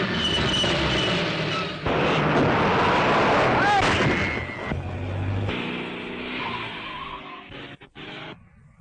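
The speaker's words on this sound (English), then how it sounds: "There's a car following us." A car chase in a 1937 mystery film brings a loud roaring engine, brief squealing tyres and crashing, jolting noises, then quieter motor sounds before it cuts off.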